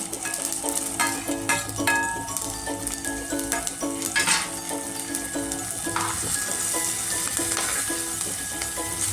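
Green chillies fry in hot oil for chivda, a loud continuous sizzle close up with the scrape and clink of stirring against the pan throughout.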